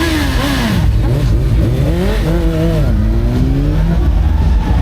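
Loud engines rev and accelerate continuously at close range during a charity motorbike road run in Londonderry, the pitch repeatedly rising and falling as several vehicles drive past over a constant roar.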